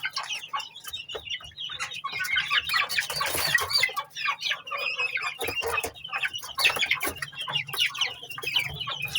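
Chicks in a cage cluck and cheep in dense, overlapping bursts, many birds close by calling continuously with no voices.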